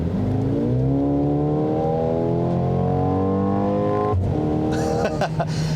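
Mercedes-AMG GLA 35 engine pulling hard under acceleration, its amplified, synthetic-tinged note climbing steadily in pitch through a long gear, then dropping briefly at a shift before rising again, loud and close throughout.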